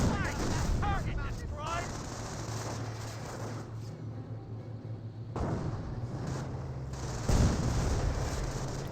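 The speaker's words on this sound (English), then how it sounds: "Sniper taking some shots here." Sniper rifle shots and battlefield gunfire in Company of Heroes 1, with sharp cracks and booms over a rumbling war soundscape and muffled chatter, fairly distant and moderate in level.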